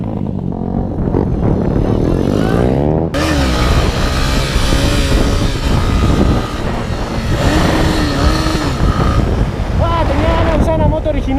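A motorcycle revs and rides loudly and close, the engine note rising and falling in pitch throughout, with wind buffeting and a voice speaking over the engine.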